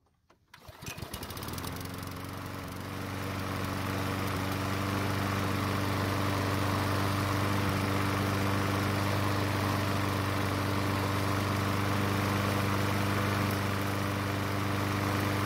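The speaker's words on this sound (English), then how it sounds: "the engine is running a lot smoother" A Snapper self-propelled lawn mower's small engine sputters to life, then settles into a steady, even drone that runs loud and unbroken, with no voices.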